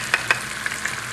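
Oyster sauce sizzles in a hot pan with a constant close frying hiss, punctuated by a few sharp stirring clicks and scrapes, with no talking.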